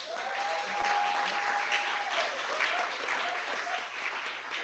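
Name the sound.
round of applause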